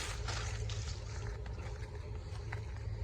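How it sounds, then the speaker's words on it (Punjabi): An old tubewell water pump motor, built by the elders and dating to around 1990, drones steadily and loudly throughout, a continuous low engine hum layered with broad rushing, water-like noise and no pauses. "ਇਹ ਮੋਟਰ ਹੈ ਜੀ ਸਾਡੀ"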